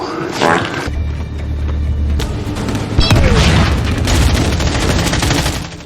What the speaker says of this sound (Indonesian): Dono mencari posisi enaknya sendiri agar bisa menembak para tentara Jerman yang berdatangan